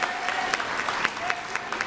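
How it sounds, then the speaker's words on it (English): An audience at an eighth-grade school awards program gives a short burst of steady clapping. Several sharp individual claps stand out from the crowd, with a faint tone in the background. "We'll give them a round of applause."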